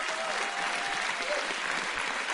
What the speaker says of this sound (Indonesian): Tepuk tangan dong buat Pak Parto.